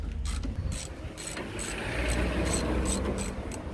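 A ratchet loosens the 13 mm bolts on a Doka's brake caliper, giving rapid, rhythmic clicking strokes close by over a dull, steady background rumble.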